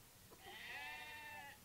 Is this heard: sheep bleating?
yes